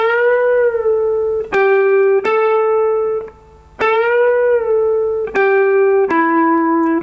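Clean electric guitar playing a lick: sustained single notes with picked attacks and a smooth string bend rising into pitch, a brief gap midway, played alone without talk.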